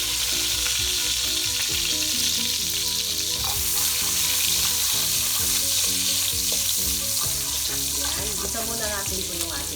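Chopped garlic fries in a pan of hot bacon fat, giving a loud, steady sizzle and crackle throughout, with pitched background music underneath.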